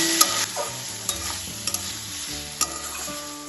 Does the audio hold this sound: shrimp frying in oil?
yes